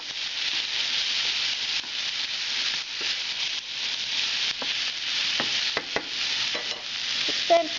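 Potatoes frying in oil with mushrooms and carrots in a pan, with a steady close sizzle and hiss broken by scraping stirs and a few light utensil clicks.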